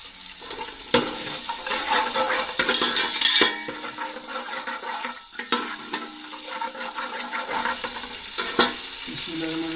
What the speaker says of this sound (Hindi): ये देखिए अभी इसके अंदर 1 किलो प्याज डाल रहे हैं हमने।